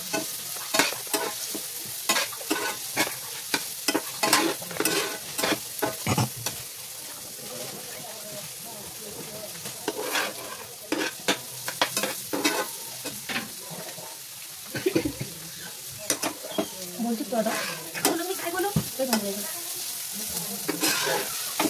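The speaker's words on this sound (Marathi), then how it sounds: "थोडीशी हल्दी ॲड करायची जेणेकरून कांदा लवकर फ्राय होतो" Onions fry with a little turmeric in a pan for a frankie filling, giving a soft continuous sizzle broken by frequent spatula scrapes and clicks. A voice talks faintly in places.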